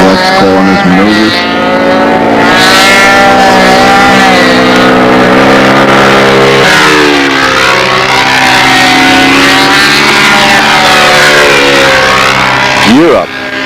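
Four-stroke engines of control line stunt model planes drone continuously and loudly, the pitch wavering up and down as the aircraft circle, with a voice talking underneath at times.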